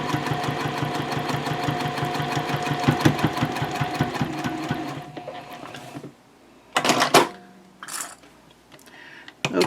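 A sewing machine stitches a backpack in a fast, rhythmic, loud chatter for about five seconds, then stops, followed by a few clunks and handling sounds.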